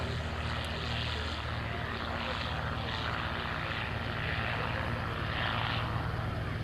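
Aerobatic propeller airplanes with 260-horsepower Lycoming engines drone steadily overhead at an air show, a continuous loud buzzing engine roar with slight pulsing, no pauses throughout.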